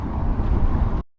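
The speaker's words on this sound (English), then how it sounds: "Man, it's windy." Strong gusting wind roars across the microphone on open water from a kayak, a steady buffeting rush that cuts out abruptly near the end.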